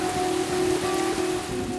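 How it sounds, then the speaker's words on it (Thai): Steady rain falls on a large, shallow lagoon in Zambia's Luangwa Valley, a dense even hiss with a faint tonal hum running through it, no voices. "ฝนตกเกือบตลอดเวลาในช่วงนี้ของปี"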